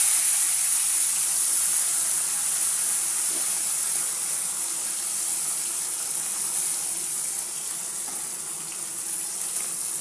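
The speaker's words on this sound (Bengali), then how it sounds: "এই দুটো আমি এরকমভাবে ভেজে নেব।" Small sarputi fish frying in oil in a pan, a steady close hiss and sizzle running unbroken throughout with no talking.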